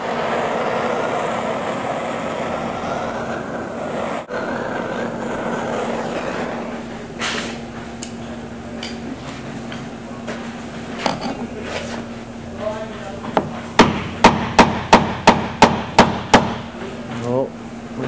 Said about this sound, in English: we're trying to beat the screwdriver into that groove right there to disrupt the threads and beat that shaft down